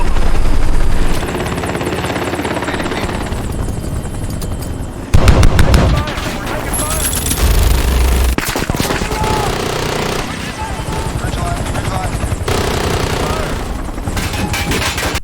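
A helicopter whirs steadily while enemy troops fire on it, with bursts of gunfire and heavy impacts breaking through the rotor drone. Voices talk over the noise.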